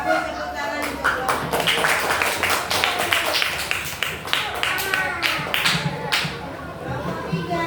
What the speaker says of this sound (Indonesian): tepuk tangan untuk lo